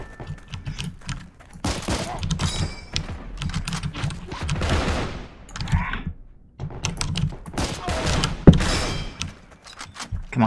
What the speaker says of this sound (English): There's also a guy shooting from there.